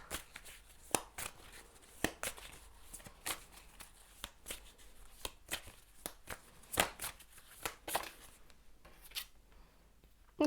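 Tarot cards are shuffled close up in quick, irregular riffs and slaps, crisp bursts repeating over about ten seconds in a quiet room without talk.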